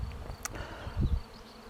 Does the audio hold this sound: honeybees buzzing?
yes